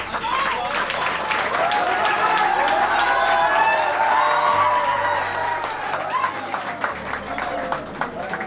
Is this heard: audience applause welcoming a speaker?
yes